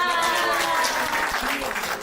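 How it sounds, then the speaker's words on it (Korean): Audience clapping in a lecture hall during a health talk, a dense steady wash of applause lasting about two seconds, fairly loud and close, with a few voices mixed in. "그래서 우리를 위해서 박수 한번 칠까요?"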